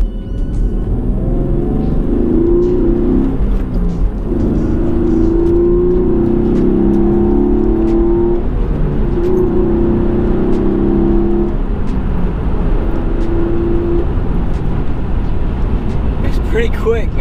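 A 2013 Hyundai Genesis Coupe 3.8 R-Spec V6 engine hums steadily from inside the moving car, its low drone rising in pitch as it accelerates to around 80, with road noise underneath.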